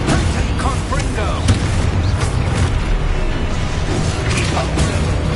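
Confringo blasting spell explosions in the Hogwarts Legacy video game: a dense, loud wash of booming bursts and crackling impacts runs throughout, with a voice talking over the combat noise.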